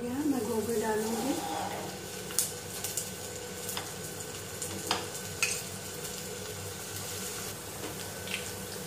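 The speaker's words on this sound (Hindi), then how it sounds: "गर्म हो गया है, हमारा तेल गर्म हो गया, मैं गोभी डालूंगी।" Cauliflower florets coated in cornflour frying in hot oil for gobi manchurian, a steady soft sizzle with occasional crackles and pops, a voice talking over it at the start.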